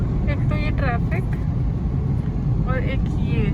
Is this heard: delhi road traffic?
yes